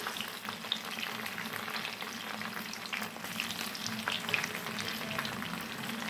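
Okra sizzles and crackles steadily as it fries in a pan, with small pops and occasional stirring scrapes at a low, even level.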